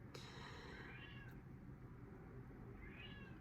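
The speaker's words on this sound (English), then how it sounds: "My cat is meowing." A pet cat named Lucky meows indoors, two drawn-out, rising-and-falling cries spaced a few seconds apart, fairly faint over a steady low background hum, with no one talking.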